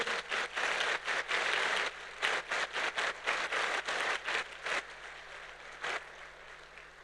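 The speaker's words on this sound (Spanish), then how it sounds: "Qué bueno que al menos hubo un aplauso." Applause from a church congregation during a sermon, arriving as loud bursts of clapping in irregular waves that fade into a quieter room toward the end.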